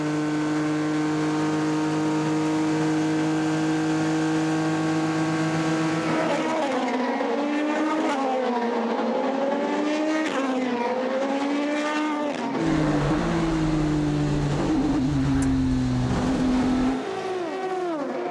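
GTE Pro race cars including Ford and Aston Martin at high speed at the 24 Hours of Le Mans, loud engine drones rising and falling in pitch as several cars pass and shift gears, one after another.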